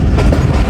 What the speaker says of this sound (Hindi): मेरी डेस्टिनेशन अटक सिटी जंक्शन अप्रोच बना रही है 13 अप अवाम एक्सप्रेस ZCU 26419 के साथ।